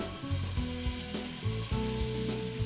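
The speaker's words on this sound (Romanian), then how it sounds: "Pentru burgerul nostru vreau să prăjesc și câteva feliuțe de bacon afumat." Slices of smoked bacon fry in a pan for a burger, giving a steady sizzle and crackle at close range, layered with a rhythmic tonal backing, with no one speaking.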